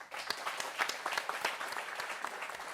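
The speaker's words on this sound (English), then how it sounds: "On vous applaudit." Applause from a crowd at a Vendée Globe sailing race event in Les Sables-d'Olonne, a steady dense patter of many hands clapping throughout, fairly close and alone without talk.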